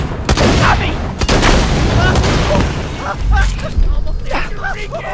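Gunfire in the co-op shooter game Borderlands 2, with sharp bursts of shots and booming impacts early on and scattered shots later, loud and close, while players talk over the action.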